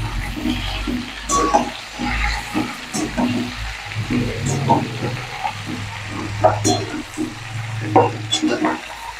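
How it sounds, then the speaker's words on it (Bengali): Mixed vegetables with green banana for neem shukto fry in a pan, a continuous sizzle broken by repeated stirring scrapes and clatter, close and moderately loud with no speech. "সবজিটা একটু ভাজবো"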